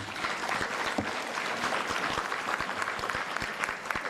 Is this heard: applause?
yes